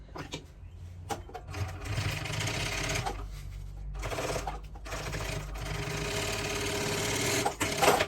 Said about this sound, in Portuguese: Passar uma costurinha aqui, o acabamento, e do outro lado ela tá pronta.